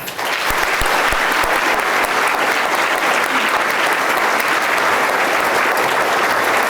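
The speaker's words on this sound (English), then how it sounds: "Let's give them a round of applause." Sustained audience applause at an awards ceremony for leadership honorees, a dense, loud, steady wash of many hands clapping that holds evenly throughout.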